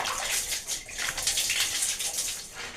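Water runs and splashes steadily close by while a dog is being bathed, a continuous rushing spray with uneven surges and no talking.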